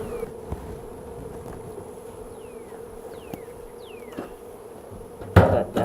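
A steady, continuous buzzing drone of honey bees inside a hive, with a few faint chirps above it and a sharper knock near the end.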